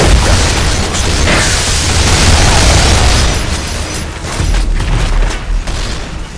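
Explosive charges detonating in the video game Damnation, a loud sustained roar of blasts and rumbling debris that slowly fades and breaks into scattered crackles.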